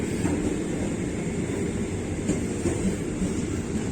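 The Argo Anggrek express train runs on its rails at speed, a steady loud rumble and hiss of the carriage with faint rhythmic wheel clicks throughout.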